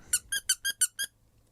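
Squeaker toy pressed six times in quick even succession, bright high-pitched squeaks up close, then silence.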